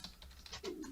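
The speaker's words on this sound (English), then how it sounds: "What are you typing?" Several quick, light keystrokes tap on a computer keyboard in a short, close burst, irregular in rhythm and with no talking.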